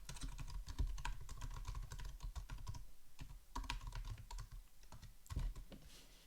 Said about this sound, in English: on the link you would just manually type in the link to the index page